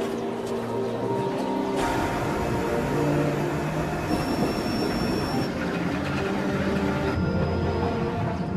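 An aerial tramway car climbs the mountain in the Santa Rosa and San Jacinto range, giving a continuous mechanical rumble with squealing, whining tones and a humming drive that shifts partway through, steady and fairly loud.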